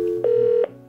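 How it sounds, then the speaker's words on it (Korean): A telephone call being placed, with a steady ringback tone held for about half a second between two soft clicks, close and clear, with no voices. "제가 뭐 전화 걸어보겠습니다."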